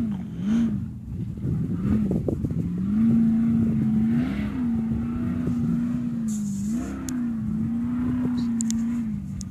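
A car engine revs hard and rises through its range, holding a loud, steady drone with repeated swells as it climbs, close and continuous with no talk over it.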